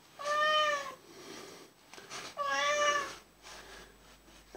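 A pet cat, a little over a year old, meows twice, two drawn-out calls with a pause between them, close and fairly loud in a quiet room.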